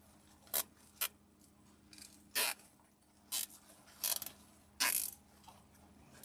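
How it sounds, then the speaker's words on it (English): A zip tie is ratcheted tight while a ribbon bow is being made, giving a series of short, sharp zipping clicks that come in irregular bursts, close and fairly quiet. "And a zip tie."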